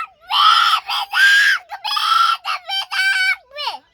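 Chicks squawk and cluck loudly up close in a rapid series of agitated calls, ending with a falling squeal.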